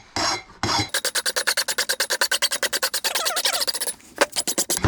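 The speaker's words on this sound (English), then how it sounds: "Trying to grind it a little bit." A rasping, rhythmic scrape as a metal car downpipe for an Audi A3 is ground down in quick repeated strokes, loud and close, with a few short bursts before and after the steady run.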